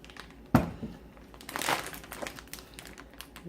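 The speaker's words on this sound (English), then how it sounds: "I'm going to just pour this into a baggie. This is a gallon size, so it gives me a little extra space to move around." A gallon-size plastic zip bag crinkles and rustles as a dessert is poured into it, starting with one sharp crackle and then softer, uneven crumpling close by, with no voices.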